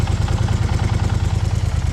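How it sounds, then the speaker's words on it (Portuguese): A 2020 Kymco AK 550 motorcycle idles close up with a steady, rapid low throb and a loud mechanical engine noise, with no talking. "Deixei o motor ligado, vou aproximar bem a câmera, porque essa moto tá com um barulho bem alto no motor."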